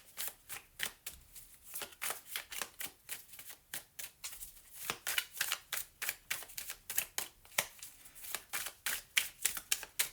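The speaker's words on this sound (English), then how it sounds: "So let's have a real good shuffle of the cards" A deck of oracle cards is shuffled by hand in a rapid, irregular series of crisp riffling flicks and snaps, close but quiet, continuing for about ten seconds with no talk.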